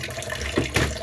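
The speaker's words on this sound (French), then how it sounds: "On va couper le robinet." Water running from a bathroom tap into a bucket beneath a washbasin during drain cleaning, a close, steady hiss and splash with brief louder gushes, no voices.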